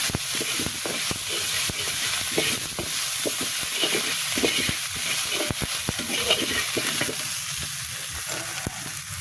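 Spices and fresh coriander leaves sizzle and fry in hot oil in a pan for a spicy bata fish curry, a steady close hiss broken by scraping stirs, with no voices.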